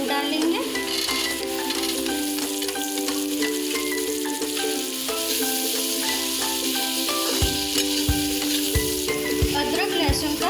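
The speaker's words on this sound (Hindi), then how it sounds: "अब हम इसमें 2 कटे हुए आलू डालेंगे।" Chopped potatoes hiss and sizzle steadily in a hot pan of oil, a continuous close frying crackle with several sharp knocks near the end, likely a spoon stirring.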